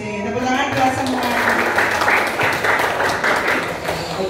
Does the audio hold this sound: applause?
yes